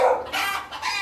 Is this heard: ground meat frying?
no